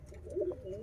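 Sialkoti rooftop pigeons coo softly, a short low murmuring call rising in the middle of the brief clip, with no talk.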